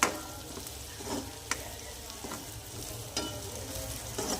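Onions, tomatoes, green chillies, curry leaves, ginger-garlic and cumin roast in a pan, a quiet steady sizzle broken by several sharp scrapes of stirring.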